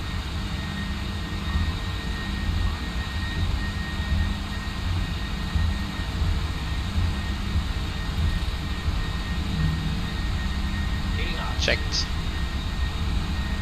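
Four jet engines of a PMDG 747-400F China Airlines cargo freighter roar at takeoff in the P3D v5.3 flight simulator, a loud, steady, unbroken drone with a brief spoken word near the end.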